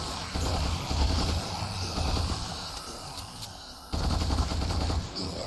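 A machine gun with limited ammunition fires in Ultimate Epic Battle Simulator, a dense sustained rattle of rapid shots with a brief break before the burst resumes, loud and close over a busy battle din.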